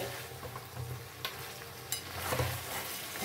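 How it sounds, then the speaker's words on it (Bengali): Spiced curry sautéing in a pan, a steady close sizzle with soft scraping from a spatula pressing and stirring it, no voices. "এই চাপা দিয়ে দিয়ে আমি কষিয়ে নেব।"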